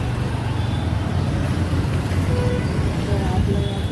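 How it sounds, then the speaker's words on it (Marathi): Road traffic at Uran Naka near Panvel, Navi Mumbai, a continuous dense hum of vehicles and engines, close and steady, with voices mixed in. "बघू शकतो मध्ये जसं गाड्या लावून जातो कसं ट्रॅफिक होते ना"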